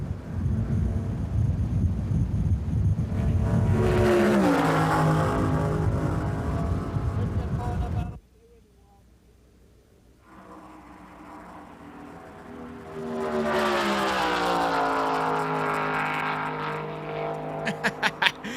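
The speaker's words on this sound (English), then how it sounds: "let Terry Labonte's Oldsmobile come by at over 200 miles an hour" A NASCAR Oldsmobile race car at Daytona International Speedway roars past at over 200 mph while the recording car travels at 55 mph, with heavy wind noise, a loud engine sweep, a quieter gap, then rising engine roar again.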